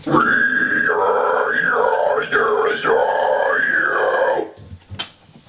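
Harsh vocal screams from a band vocalist, loud and close, in long sustained strained bursts with shifting pitch, broken by a short pause before a final quieter stretch.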